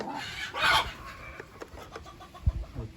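Chickens give a few scattered clucks nearby, with soft shuffling and a low thump in between.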